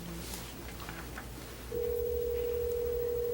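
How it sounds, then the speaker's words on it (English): A telephone line ringing during a school board HR committee meeting: after a murmur of room noise, a steady, unbroken ring tone begins partway through and holds to the end. "Good sign, the phone is ringing."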